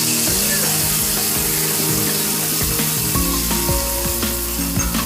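Banana chips fry in a pan of oil, a continuous loud sizzle broken by scraping and stirring strokes, with music playing underneath.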